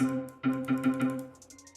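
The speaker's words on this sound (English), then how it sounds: "what I started with this tap-in mallet from a one-shot kit" A short melodic mallet pattern, several bright tapped notes in quick succession, slightly processed, with a fading ringing tail.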